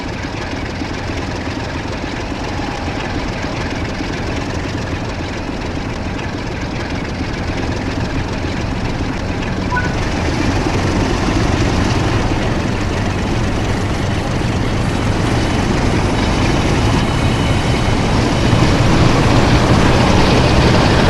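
A train in the Train Sim World 5 simulation, running the West Coast Main Line from Preston to Carlisle, pulls away under throttle with a steady, loud engine drone that gradually swells in intensity over about twenty seconds, with no speech.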